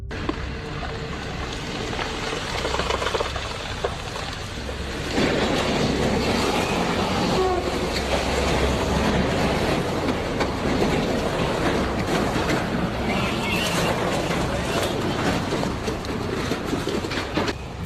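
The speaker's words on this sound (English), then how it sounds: "this train wasn't fast enough to avoid this sudden landslide" A train in Washington state caught by a sudden landslide: a dense, steady rumble and clatter of rolling railcars that swells louder and rougher partway through, continuing without voices.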